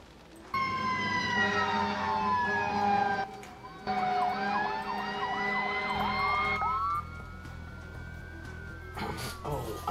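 Emergency vehicle siren from the 911 First Responders game, a loud wailing tone sweeping up and down over a low engine drone, with a horn-like blast near the end and a voice talking underneath.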